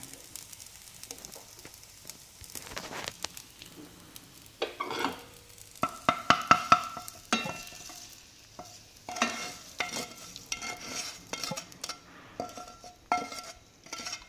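Vermicelli stirred into warming milk in a pot for sheer khurma: intermittent scraping and clinking of a spoon against the metal pot, with soft liquid sloshing, close up and without talk.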